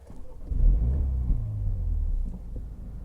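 A Mini Clubman JCW ALL4 engine starts up in normal mode, a soft low rumble that swells after a brief crank and then settles into a steady idle, fairly quiet and with no talk.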